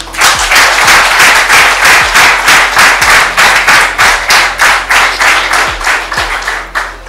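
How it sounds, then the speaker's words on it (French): An audience applauds steadily at a tribute event for a former president, a dense wash of many hands clapping that stays loud and even throughout, with no talk over it. "Acclamez pour lui"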